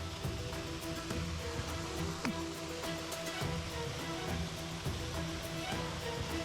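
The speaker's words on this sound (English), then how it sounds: "I spent a good while at the waterfall just taking it in" Waterfall on the High Coast Trail, a steady broadband rush of running water filling the scene, constant and fairly loud with no talk over it.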